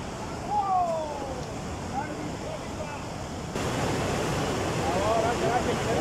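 A cold-water spring in Pakistan flows with a constant, fairly soft watery hiss that grows a little stronger midway, while faint birdsong chirps come through now and then.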